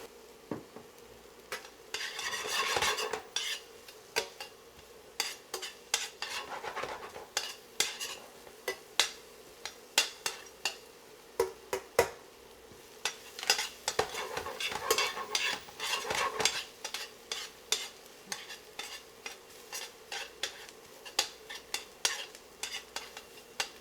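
Shallots sautéing in a teaspoon of olive oil in a pan, a steady soft sizzle broken by frequent scraping clicks of a utensil stirring against the pan, with no voices.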